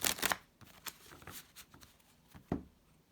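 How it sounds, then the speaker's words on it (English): Tarot cards are shuffled in a few quick riffling bursts, with soft slaps and taps in between, close and fairly quiet. "Last shuffle, I believe."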